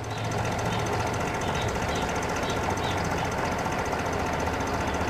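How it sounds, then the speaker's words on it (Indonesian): A 2006 Toyota Yaris E with manual transmission idles steadily nearby, its engine giving a continuous, even mechanical hum and clatter with no talking. "Dan ini untuk suara mesinnya. Suara mesinnya masih halus."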